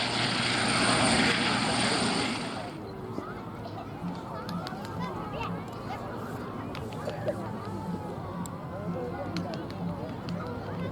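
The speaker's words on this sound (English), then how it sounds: "Interesting aeroplane, a lot of people confuse it with the Tiger Moth." A vintage biplane that resembles a Tiger Moth and first flew in 1933 drones past at an air festival, a loud buzzing engine that fades after a couple of seconds into a steady, more distant rumble as an announcer talks over it.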